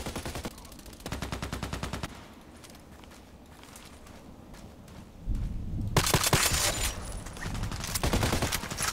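Automatic gunfire in a shooter video game, with rapid bursts of machine-gun shots at the start and again loudly toward the end, separated by a quieter stretch of footsteps and ambient noise.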